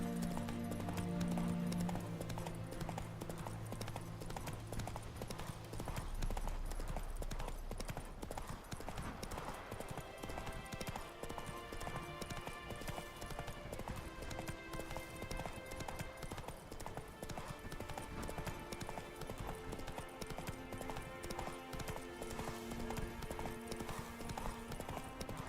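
Roach the horse gallops in The Witcher 3, a fast, continuous drumming of hooves up close throughout, layered over game music with sustained tones.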